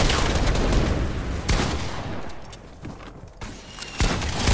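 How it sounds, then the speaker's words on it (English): RPG rocket launcher fire in a video game firefight: loud broadband blasts and gunfire-like bursts hit at the start, around a second and a half in, and again near the end, with rumbling noise between them. "I'm gonna RPG him."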